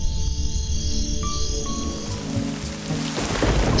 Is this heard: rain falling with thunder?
yes